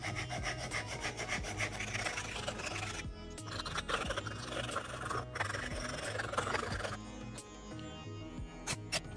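Straight razor of hard French steel from Thiers being honed on an Atoma 400 diamond plate, a steady gritty rubbing rasp in close repeated strokes, continuous and loud, with no talking.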